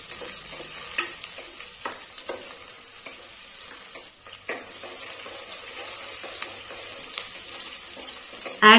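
Garlic and green chillies stirred in hot oil for a restaurant-style chicken curry: a steady, close sizzle with repeated scraping stir strokes throughout, ending in a brief louder clatter.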